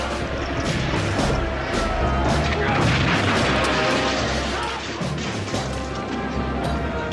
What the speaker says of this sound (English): The two navies showered each other in cannonballs and gunfire